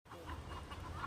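A hen clucking close by in a village yard, a brief run of soft, low clucks lasting about a second.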